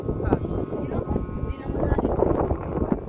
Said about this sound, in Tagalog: Sobrang lakas kasi ng hangin yan.